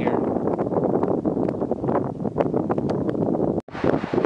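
Wind blowing outdoors on a backpacking trail in the mountains near Convict Creek, a loud continuous roar buffeting the microphone with gusts and a brief cutout near the end.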